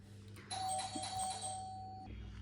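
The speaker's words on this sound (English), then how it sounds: "the doorbell ringing is like a double confirmation" A doorbell chimes once, bright sustained tones ringing out and slowly fading, heard alone over a low steady hum.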